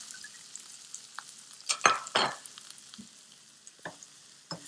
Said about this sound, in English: I'm going to go ahead and add my onion also and let it cook till it's going to look a little bit pink color.